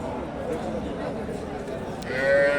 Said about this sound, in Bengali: আর এটা গাভী দেশি গাভী